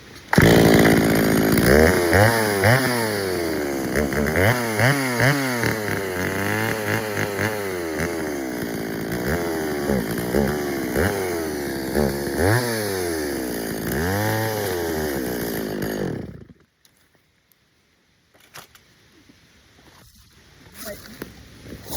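A chainsaw runs close and loud, revving up and down repeatedly in rising and falling sweeps for about sixteen seconds before cutting off into near silence.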